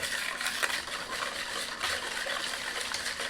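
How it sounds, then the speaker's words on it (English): A whisk churns through lemon dessert filling for a no-bake lemon lasagna, making a close, continuous wet swishing and scraping with a steady rhythmic pulse and no talking. "I'm just gonna whisk this until it gets thick."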